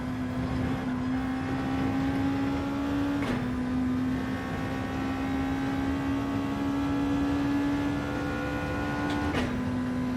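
Race car engines in the video game Gran Turismo 7 drone steadily at high revs, with brief shifts in pitch at a couple of gear changes, moderately loud and continuous with no talk.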